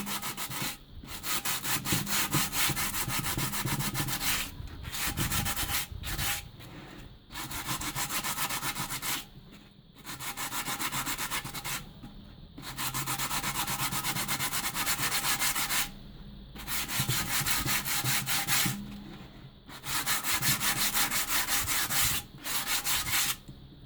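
A cement vase is sanded by hand with sandpaper in long, steady gritty rubbing strokes, separated by brief pauses, close and fairly loud.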